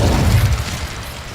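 An Incendio fire spell bursting in Hogwarts Legacy, a loud, dense fiery whoosh that booms at the start and then roars on steadily.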